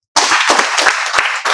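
A class of students at a spoken English institute breaks into loud, close applause, a dense burst of clapping lasting under two seconds with no talking.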